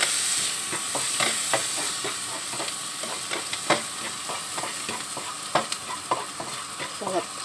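Onion and garlic fry in a pan with a steady bright sizzle, broken by scattered clicks and scrapes of stirring, close and moderately loud with no talk.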